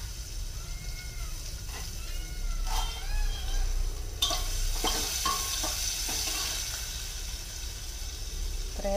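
Onion fries in a mustard seed and cumin tempering with added coconut, making a broad, steady sizzle with stirring clatter, while a cat meows a few times in the background.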